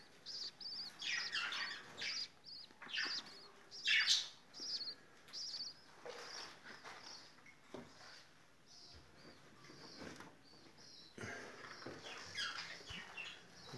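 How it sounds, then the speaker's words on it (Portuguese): Rainbow parakeets in an aviary chirp and tweet in bright bursts, several birds calling near and far over soft background cooing, with no talk. "eles são, no caso, periquitos arco-íris"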